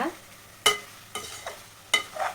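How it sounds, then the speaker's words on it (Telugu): Mutton being stirred in a pan with salt and turmeric: three or four brief scraping, sizzling strokes spaced about half a second apart, close and moderately loud with no talk. "సాల్ట్ పసుపు వేసుకొని ఒకసారి బాగా కలిపేసుకుంటున్నాను మొత్తం బాగా కలిసేటట్లు కలిపేసుకోవాలి"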